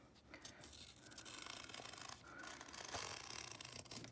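Scissors trim a fabric appliqué for a Hogwarts house tie, giving a quiet close-up scratchy rasp of blades through cloth in a few short, uneven cutting strokes.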